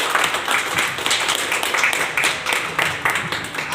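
A meeting audience gives a burst of loud, continuous clapping, many hands together, near and sustained without letup.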